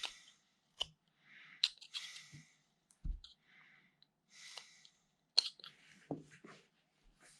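A knife whittling a beginner wood carving, close and quiet, with short scraping cuts and sharp clicks in irregular bursts separated by near silence.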